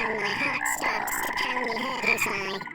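Croaking from a frog in the video game Mask of the Rose, several loud, close croaks repeating in quick bursts over game sounds.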